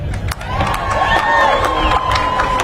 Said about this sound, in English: one more time, a round of applause for Colbie Caillat.